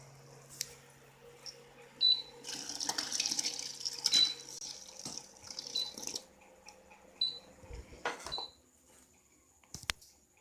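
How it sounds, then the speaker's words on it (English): Lime water being poured into a bucket for soaking white clothes, heard as intermittent splashes, trickles and drips with short gaps between pours, close by and fairly quiet. "So now we'll pour this into the bucket."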